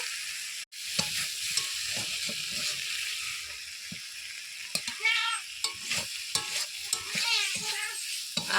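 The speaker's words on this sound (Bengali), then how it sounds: "চিচিঙ্গে একেবারে শুকনো শুকনো করে ভেজে নেব, মশলার সঙ্গে একেবারে লাল লাল করব।" Snake gourd dry-frying with spices in a pan, a steady close sizzle broken by repeated scraping stirs of a spatula and a sharp clack near the start.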